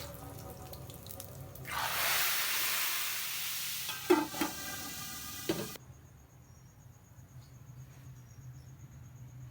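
A tadka of green chillies for beef nihari hits the hot oil with a sudden loud hiss and a few sharp pops, then cuts off abruptly, leaving only quiet background.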